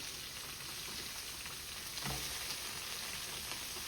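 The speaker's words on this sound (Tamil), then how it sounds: "இதோட சேர்த்து நான் பெரிய வெங்காயம் அதே மாதிரி சின்ன வெங்காயம் சேர்க்கிறேன்." Large and small onions fry in hot oil for sambar, giving a continuous bright sizzle with a brief stirring clatter near the middle, close and steady with no voices.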